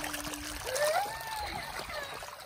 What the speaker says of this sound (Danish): Så er der vandfald ude i hele haven her